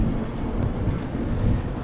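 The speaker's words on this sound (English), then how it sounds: "The rain softens, the wind settles" Steady rain with wind, a dense even hiss and low rumble filling the whole stretch without pauses or voices.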